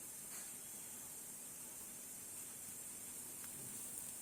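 Water heating in a pot on a stove in a home before dawn gives a steady, even hiss that holds at the same level throughout, with no pauses or voices.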